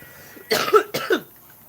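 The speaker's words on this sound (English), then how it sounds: "I'm over here coughing up a lung" Two harsh, close coughs in quick succession, loud and isolated against near silence.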